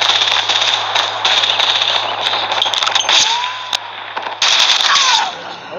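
An LK24 rifle fires rapid bursts in the mobile shooter Call of Duty Mobile, its rounds cracking like fireworks with whistling streaks and popping bursts, loud and dense over a steady low hum, with brief pauses between volleys.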